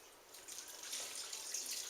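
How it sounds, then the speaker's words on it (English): Juice poured into a pan of cornbread dressing gives a steady, soft liquid trickle and splash for about two seconds, close by and alone. "Add a little bit more juice to this."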